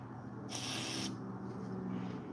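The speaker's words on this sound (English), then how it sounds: "we're going to hit it with some Magic WD-40" WD-40 is sprayed onto a chainsaw part in one short, hissing burst of about half a second, close and fairly loud, with quiet background on either side.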